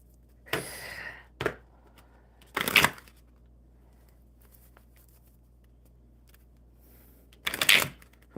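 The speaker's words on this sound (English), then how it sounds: "Totally forgot how to shuffle." Playing cards being shuffled in a few separate bursts, close and crisp riffles with short quiet gaps between them, in a calm indoor setting during a casual card game.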